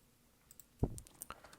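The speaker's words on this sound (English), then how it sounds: "I'm typing with one hand." One-handed typing on a computer keyboard: a few sparse, soft key clicks and a single heavier thump, quiet and close, with no talking.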